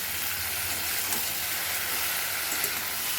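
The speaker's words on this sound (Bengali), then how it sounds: "একটু বেশি করেই আলুটা ভাজছি" Potatoes seasoned with salt and turmeric fry in a pan, giving a steady, dense sizzling hiss heard close up and alone for a few seconds.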